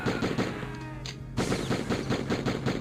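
Rapid video-game gunfire from a Die Hard game, a magazine emptied in dense bursts of loud repeated shots with a brief gap in the middle before firing resumes.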